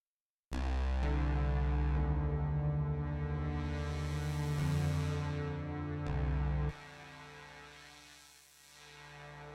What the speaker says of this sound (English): an amazing smooth-sounding emulation of the multi-mode analog filter found in a Mini-Freq